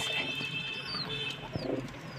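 A flock of pigeons gathered in and around their coop, giving scattered soft coos and short chirps over a steady outdoor background hum, fairly close.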